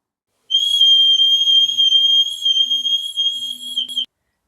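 An old metal-detected whistle found in Cumbria, UK, is blown in one sustained shrill note of about three and a half seconds, loud and close, wavering slightly before cutting off.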